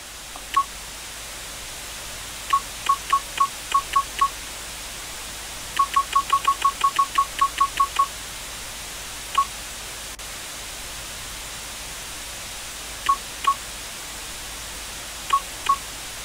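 Modem dialing in the Commander '85 computer game: bursts of rapid touch-tone beeps, one long run of about a dozen quick tones, then scattered single and paired tones over a steady low hiss, with no voices.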